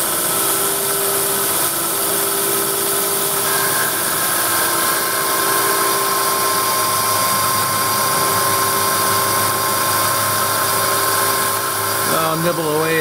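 A machine tool cuts steel for etching press bearing housings in a low-horsepower setup, giving a steady, loud, whining drone with a sustained tone throughout and a brief change near the end.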